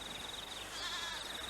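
A cashmere goat on a New Zealand farm lets out a single faint, wavering bleat over a background hiss.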